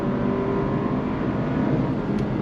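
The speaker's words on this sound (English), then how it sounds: "On throttle, here we go. I love the shifts from the PDK." 2023 Porsche Macan T SUV accelerating on throttle with its PDK transmission, a steady dense engine and road roar heard from inside the cabin, continuous and fairly loud.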